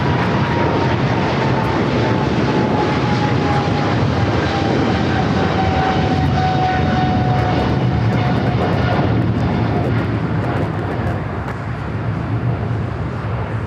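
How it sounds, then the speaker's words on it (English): A Boeing 777-300ER jet airliner roars past near LAX, a loud, sustained broadband engine noise with a faint whine, holding steady before easing slightly at the end. "That was the 777 at 300ER"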